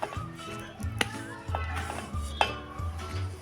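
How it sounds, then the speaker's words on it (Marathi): Dry mix of coconut, semolina and gram flour tipped into sugar syrup in a pot, with clinks of a spoon against the metal and soft pouring rustles under continuous background music and a little talk. "हे आता खोबरं, रवा आणि बेसन मी सगळं एकत्र करूनच ठेवलेलं आहे. हे ह्यामध्ये टाकून घेऊया."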